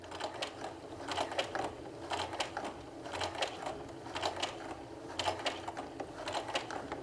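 A sewing machine slowly back stitches across a bulky camera strap, its needle running in quick mechanical bursts of rattling clicks with short pauses between runs, close and steady throughout.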